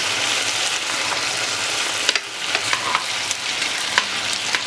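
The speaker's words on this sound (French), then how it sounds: "le fait de les faire revenir à feu vif permet de les dorer un petit peu" Duck strips sizzling and frying over high heat in a pan for curry, a steady close hiss with occasional sharper crackles and stirring scrapes, no voices.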